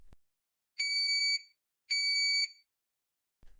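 An Arduino buzzer in an RFID card entry system sounds two identical shrill electronic beeps, each about half a second long with a short gap between them, close and clear against near silence.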